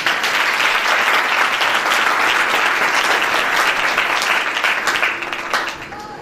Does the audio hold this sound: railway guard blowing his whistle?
no